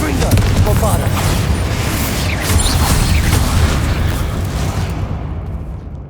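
Confringo and Bombarda spells in Hogwarts Legacy erupt as a run of heavy, overlapping explosions. The loud, continuous rumbling and crackling bursts carry on for several seconds before easing off.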